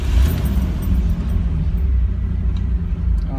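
Third-generation Chevrolet Camaro engine running while parked on a hot day, a deep low rumble at steady idle with slight unevenness, close and continuous with no talk.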